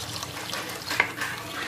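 Water is poured into a spicy sardine curry in a pan, a soft, brief splashing gurgle heard fairly faintly with no talking.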